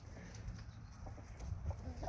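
Farm chickens cluck softly in short, scattered bursts at a feeding where a donkey and llama are also kept, faint and somewhat distant against low background rumble.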